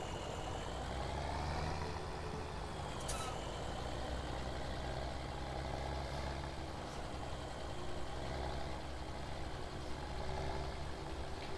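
A John Deere tractor in the Farming Simulator 17 video game idles with a steady, continuous low engine rumble and a droning hum, unbroken and alone for several seconds.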